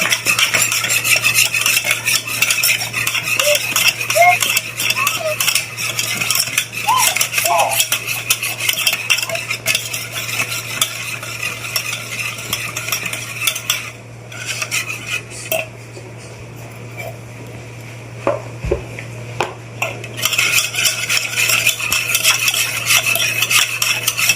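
A spoon stirs dhokla batter with turmeric in a metal bowl, scraping and clinking steadily and close for most of the time, with a short quieter pause partway through and a constant low hum underneath.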